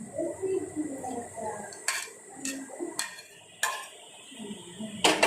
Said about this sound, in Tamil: இப்போ சாதத்தை நல்லா மிக்ஸ் பண்ணிக்கலாங்க.